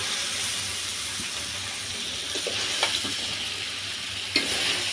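Bitter gourd frying with prawns in a spiced masala gives a steady, dense sizzle with a few soft stirring knocks and scrapes, close and without talk.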